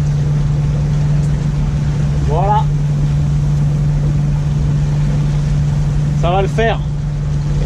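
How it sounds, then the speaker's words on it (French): A sailboat motoring on its engine through the Strait of Gibraltar, with supertankers at anchor nearby, gives off a steady low drone that runs unbroken under someone talking, with a couple of brief squeaky chirps on top. "Et j'ai mis du moteur parce que c'est pas possible sinon de gérer."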